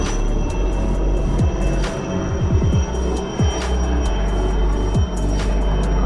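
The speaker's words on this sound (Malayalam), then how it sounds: "ഹെലികോപ്റ്റർ കാണത്തോണ്ടെന്നറിയില്ല, പോണ ഹെലികോപ്റ്റർ." A helicopter passes overhead in rural open air, a continuous far-off rotor and engine drone that holds steady for the whole stretch, with a few higher tonal sweeps rising and falling, and no one talking.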